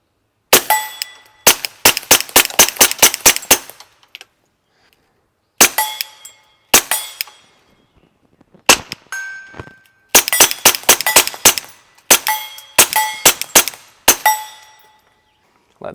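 A Glock pistol fitted with an Advantage Arms 22LR conversion, a little dirty after heavy use, fires several rapid strings of sharp, loud cracks with short pauses between groups. The shots ring with metallic clangs and no voices are heard.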